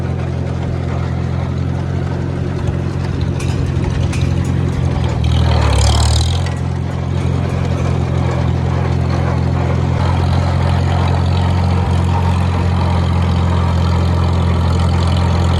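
The engine of a Farmall H tractor rolling a road chugs with a steady, loud low drone that stays even throughout, with a short louder surge midway.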